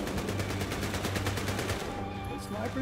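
Rapid gunfire from snipers in the video game Battlefield Hardline, a dense rattling burst of shots that fills most of the clip and thins out near the end.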